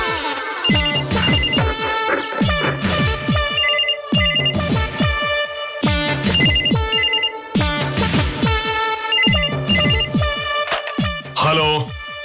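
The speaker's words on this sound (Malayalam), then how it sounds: "ചെല്ല്, പോയി ഫോൺ എടുക്ക." A telephone rings loudly and close with a repeating electronic ringtone melody that cycles in regular bursts several times without pause in an indoor domestic scene.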